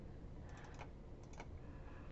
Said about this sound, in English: I had a really hard time typing the word opposite